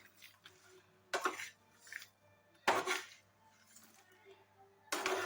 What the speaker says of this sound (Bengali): প্যানটা যে হিট হয়ে আছে তার মধ্যে এটা খালি এবার নাড়াচাড়া করব